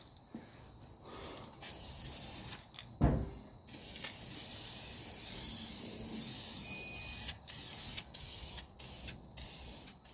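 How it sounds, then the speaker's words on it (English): Bursts of self-etching automotive primer hiss from a spray can in light coats, several short close sprays and one longer steady spray, with clicks and pauses between, no talking. "first thing we're going to do is go over it with a self-etching primer"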